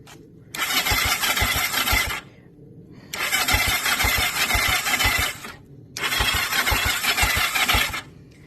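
A Kawasaki Ninja 500 motorcycle engine with freshly cleaned carburetors cranks on the starter in three long, loud whirring bursts, each lasting about one to two seconds, with short pauses between them. It never catches, and no one speaks.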